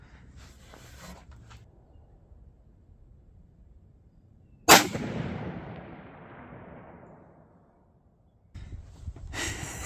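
A single sharp rifle shot from a Savage Axis chambered in 6.5 Creedmoor cracks loudly outdoors and rolls away in a long fading echo, with faint handling noise before and after.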